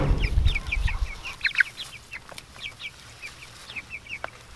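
Meat chickens cluck around a feeder, a close, busy run of short, repeated calls scattered over a low background rumble, with no one speaking.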